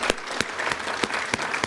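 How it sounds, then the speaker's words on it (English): Audience applause at a hospitality industry awards banquet, a busy crackle of clapping punctuated by several sharper, louder claps close by, brief and without talk. "yes, we can applaud for that"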